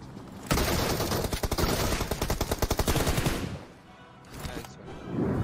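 Rapid bursts of DBS shotgun fire from a video game crack out in a dense, rhythmic volley of loud close blasts, trailing off briefly before another burst, with little talk over it.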